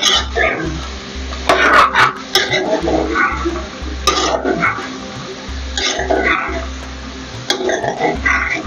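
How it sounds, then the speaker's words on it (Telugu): A spoon stirs a beans curry with oil in a pan, giving repeated scraping and sizzling strokes in uneven bursts, fairly close and loud, with a low steady hum underneath. "ఇంత కలబెట్టి నూనె మంచిగా కలిసేటట్టుగా కలబెట్టాలి"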